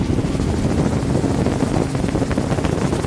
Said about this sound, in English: It's quite windy around the cape here.